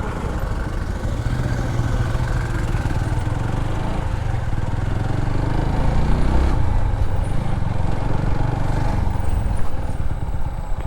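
A motorcycle pulls into a parking spot in Bangladesh, its engine a steady close rumble throughout, rising slightly in the second half as it maneuvers.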